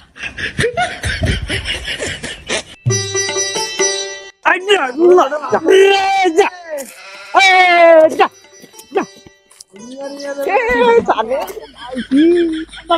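A goat bleats several times in a Bangla comedy drama scene, its wavering cries mixed in among loud talk and laughter.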